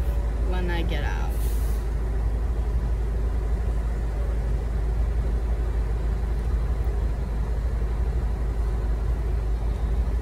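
A nearby truck lets out a sharp burst of air-brake hiss and squeal at the start, heard from inside a moving car over a steady low road and engine rumble.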